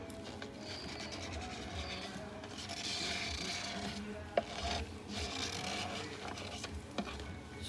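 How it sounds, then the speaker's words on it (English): Leftover epoxy resin being scraped out of a mould container, a steady close rasping and rubbing that runs throughout with a few sharp clicks, no talk. "Scrape it all out."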